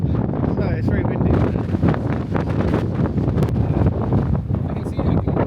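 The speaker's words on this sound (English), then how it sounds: "it's very windy" Strong wind buffets an outdoor microphone in Scotland, a steady loud rumbling roar with gusty swells throughout, and people talk over it.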